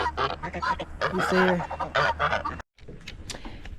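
A lone guinea fowl kept with chickens calls in a run of loud, harsh, honking cries, while a person speaks briefly over the calls.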